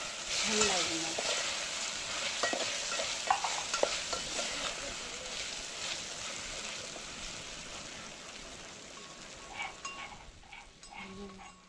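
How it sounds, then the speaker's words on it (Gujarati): Salted food fries in a pan while a spoon stirs it, a steady hiss of sizzling with repeated scraping and light clinks throughout, fading somewhat toward the end, a voice faintly present. "મીઠું નાખીએ અને પછી આપણે એને હલાવી નાખીએ"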